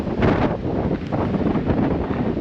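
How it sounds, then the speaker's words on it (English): Strong wind buffets the microphone on a desert hiking trail at Red Rock Canyon, a loud, steady roar with rumbling gusts lasting throughout. "But man, this wind is too much."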